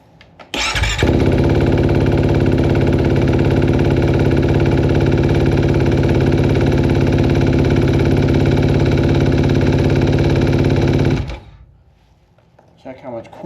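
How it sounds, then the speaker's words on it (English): Kawasaki KX250SR dirt bike with a Pro Circuit race motor kicks into life and runs loud and close at a steady buzzing idle for about ten seconds before cutting off abruptly, then faint voices. "Let's see if she still starts though."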